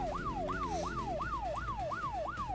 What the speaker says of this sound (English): There's the siren, get it!